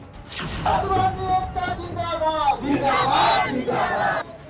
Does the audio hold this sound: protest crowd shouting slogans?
yes